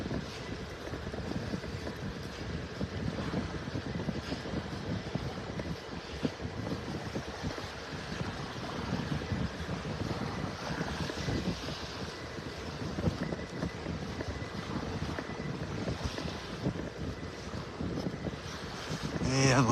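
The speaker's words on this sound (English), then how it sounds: "Feels like that wind's shifting a little more to the south here." Steady wind buffeting and rolling surf on a beach in North Naples, Florida, a continuous broad roar with gusty swells and waves washing in, heard up close without pauses.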